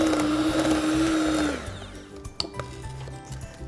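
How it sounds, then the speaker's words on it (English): An electric mixer beats butter and icing sugar for a butter cake, a loud steady motor whine that winds down and stops partway through, followed by quieter clinks and handling noises. "I'm going to beat the butter until it's really pale and then gradually add the icing sugar"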